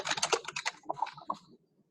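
Computer keyboard typing while entering an email body, a quick run of close, crisp key clicks in an irregular rhythm that thins out and stops near the end.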